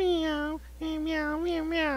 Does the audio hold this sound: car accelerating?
no